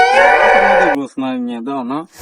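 A cow at a cattle sale lets out a long, loud moo, followed by shorter lowing calls, close by and clear with no talk over them.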